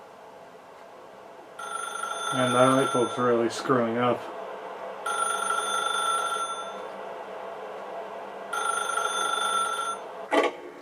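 Telephone bell in The Stanley Parable rings in three steady bursts, loud and close, with someone speaking over the first ring and a short sharp sound near the end.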